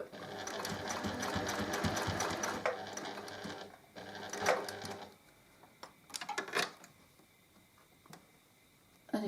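A sewing machine runs steadily for about four seconds, stitching the two sides of a zippered pouch together, then stops; brief handling clicks and fabric rustles follow, close and fairly quiet, with no talking.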